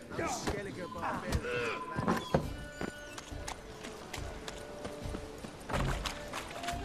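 Horse hooves clip-clopping in The Witcher 3, a busy run of hoof knocks mixed with other game sounds and some speech, moderately loud and close, steps overlapping unevenly.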